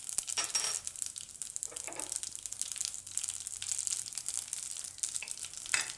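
Cumin seeds crackling and sizzling in hot oil for a Gujarati bottle gourd and gram flour curry, a steady crisp fry throughout with small sharp pops, no talking.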